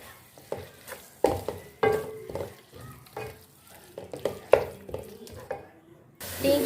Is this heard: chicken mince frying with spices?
yes